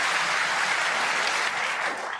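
Snooker crowd at a world champions tournament final applauding a shot, a steady, dense wash of clapping filling the hall throughout, easing slightly toward the end.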